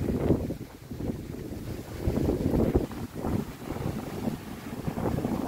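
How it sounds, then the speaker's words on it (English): Strong wind of about 27 mph buffets the microphone at Davis Camp Park, Bullhead City, Arizona, in heavy, gusting rumbles that rise and fall continuously, with no voices. "So windy out here."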